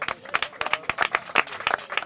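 A small evening audience of only a few people claps, loose and uneven sharp hand claps, close and clear, with no talk over them.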